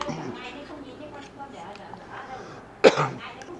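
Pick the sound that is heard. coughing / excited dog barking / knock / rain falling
coughing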